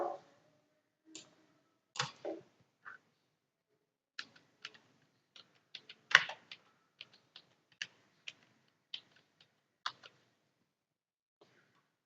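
A computer mouse clicks close-up and quietly while an image is saved to a folder: sparse, irregular single clicks and short bursts of clicks, with silence between them.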